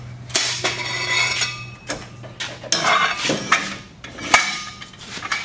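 Metal jack stand clanks and scrapes as it is moved and set in place under the bed of an S-10 pickup, a run of sharp close knocks and rattles with no talk.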